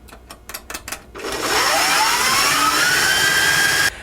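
An electric mixer whips warm cream puff dough: a few short pulses first, then the motor spins up to a loud, steady whine that holds close and constant before cutting off abruptly.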